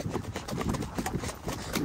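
Hooves of horses clip-clop steadily on a cavalcade ride, a close, regular beat of footfalls with faint voices in the background.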